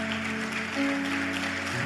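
A church congregation claps together in soft, continuous applause under sustained keyboard chords, fairly faint and even throughout the short stretch.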